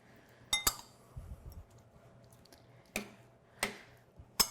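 A utensil stirring piquillo peppers into rice in a pan, several sharp metallic clinks and scrapes spaced irregularly in a quiet kitchen.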